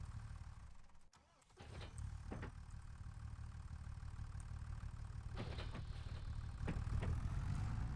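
A tractor engine idles steadily in a farming simulation game, a low, continuous mechanical rumble with a brief dip near the start and a few faint knocks and clicks over the top.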